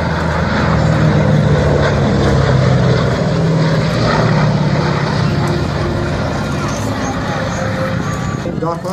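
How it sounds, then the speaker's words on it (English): A Boeing B-17G four-engine propeller bomber at an airshow produces a loud, continuous roaring drone throughout, with crowd and announcer voices mixed into the engine noise. "the Boeing B17G."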